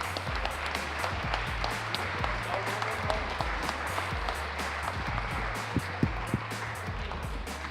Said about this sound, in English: please give a big round of applause to the chief correspondent for Liverpool FC for the Liverpool Echo